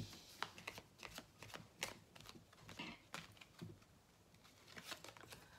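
Oracle cards being shuffled and drawn, a soft, close flurry of riffling and slapping card sounds with quick irregular bursts, quiet and without talk.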